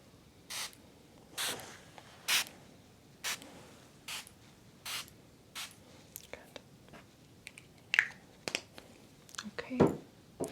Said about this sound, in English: Spraying with a little bit of this Forest Frolic hydrosol,